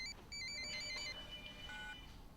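A telephone rings at home with a bright electronic ringtone, short chirping bursts of tones followed by a lower trill, faint and fairly distant in a quiet room.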